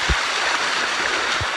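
Water rushes steadily down a waterfall in Chapada Diamantina, Brazil, a loud, continuous broadband roar close to the microphone, with a couple of brief low thumps.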